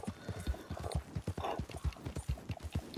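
A horse in the video game Red Dead Online trots with brisk, regular clip-clop hoofbeats, evenly spaced and fairly close, steady throughout with no talk over them.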